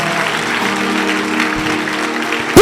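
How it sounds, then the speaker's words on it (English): A church congregation claps their hands in a steady, loud wash of applause. A sustained musical drone runs beneath it, and a sharp burst cuts in at the very end. "Clap your hands there."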